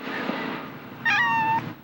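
Cats in a crowded second-story apartment, one giving a loud, drawn-out meow close by over a steady background murmur.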